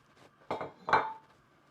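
Dishes and utensils clatter while couscous and shrimp are plated, with two or three quick, close knocks and clinks in an otherwise quiet kitchen.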